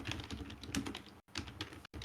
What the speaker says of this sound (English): Violently typing.